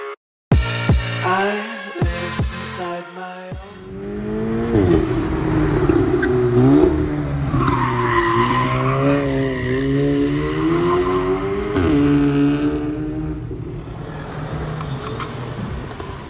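Cars lapping a race circuit at a track day at İzmir Ülkü Park: loud, sustained engine roar with pitch climbing and falling through gear changes, with tyre squeal and skidding as they pass close by.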